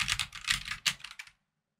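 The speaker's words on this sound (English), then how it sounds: "this is a 62-key mechanical keyboard, and yes, it was born for gaming" Rapid clattering keystrokes on a MARVO Scorpion KG962, a compact 62-key mechanical gaming keyboard, in close, steady bursts for about a second before stopping into silence.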